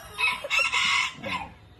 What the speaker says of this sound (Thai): อันนี้ก็จะมาแนะนำไก่แจ้สีเบนจลงนะครับ